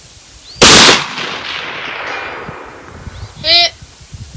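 A Sig MCX Rattler rifle fires a single sharp, loud shot outdoors with a fading tail, and a few seconds later a ringing metallic clang follows, as of a steel target being hit.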